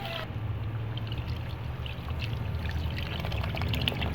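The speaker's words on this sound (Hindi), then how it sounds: "अब हम इसमें अराउंड 1 कप वाटर ऐड कर देंगे" About a cup of water poured into a curry masala with cut potatoes while making kofta curry, a steady continuous splashing pour over a low background rumble.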